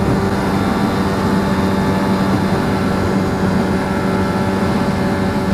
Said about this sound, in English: What an amazing exhaust.